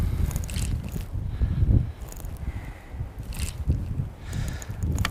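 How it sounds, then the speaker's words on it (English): Wind blows steadily across a fishing boat on the water, a loud low rumbling buffet with gusts swelling and easing, and no voices over it. "kind of getting back into the wind now"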